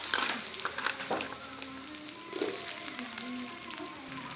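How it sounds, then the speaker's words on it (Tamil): Potatoes fry in hot oil with cumin seeds in a home kitchen, giving a steady, close sizzle broken by occasional stirring scrapes and small pops, with no talking over it. "உருளைக்கிழங்கு நல்லா வறுத்துக்கலாம்."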